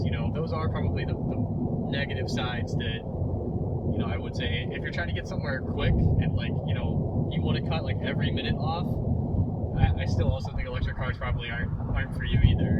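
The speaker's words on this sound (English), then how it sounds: "you can probably hear the road a lot right now, but we're on a really noisy road" Steady low road rumble fills the cabin of a 2022 Tesla Model 3 driving on a noisy road, running continuously beneath a person talking throughout.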